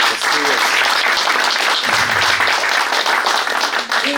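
Sustained audience applause at a lecture on Haïm Zafrani and Moroccan Judaism, loud, dense clapping from a crowd filling the whole stretch, with a few voices faintly underneath.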